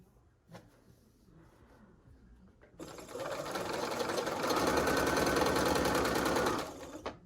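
A sewing machine stitches quilt patches together, starting after a few soft handling noises and then running steadily and fairly loud for about four seconds before stopping.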